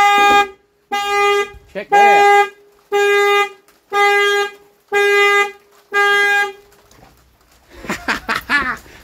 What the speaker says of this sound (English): So the alarm works.